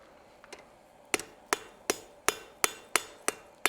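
Hot steel for a decorative hacksaw is struck on an anvil during forging: about eight sharp, ringing hammer blows fall in a steady rhythm, loud and close, after a couple of lighter taps, with no talk.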